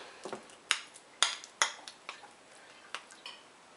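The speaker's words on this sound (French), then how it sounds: "Donc je vais commencer à en écraser un petit peu à la cuillère" A spoon scrapes and taps against a bowl while mashing avocado for a homemade hair mask, a handful of sharp, close clinks spaced irregularly over a quiet background.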